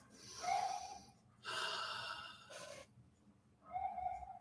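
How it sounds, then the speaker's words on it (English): Deep breathing close to the microphone, a few audible airy inhales and exhales with breathy rasps, fairly quiet and alone, with pauses between breaths. "Take a big deep breath."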